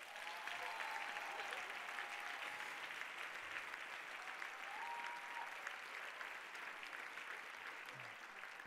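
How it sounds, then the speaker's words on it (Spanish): Audience applause at a FameLab 2017 science-communication semifinal in Barcelona, a dense steady clapping from a crowd that holds at even loudness for the full length, with faint cheers or voices rising here and there. "Vamos a darle un fuerte aplauso a Pedro Daniel Pajares."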